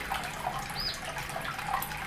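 Warm water splashing and trickling steadily while a baby bantam chick is bathed for pasty butt, a soft continuous wash of liquid with faint drips, close and fairly quiet throughout.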